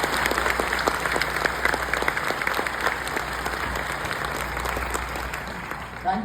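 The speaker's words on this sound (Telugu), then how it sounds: "థ్యాంక్ యూ చప్పట్లు కొట్టినందుకు." An audience claps together in a dense, steady patter of many hands, moderately distant and sustained for several seconds with a faint background murmur.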